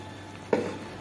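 Fritters frying in a little ghee in a pan give a brief loud sizzle burst that fades into a softer steady crackle.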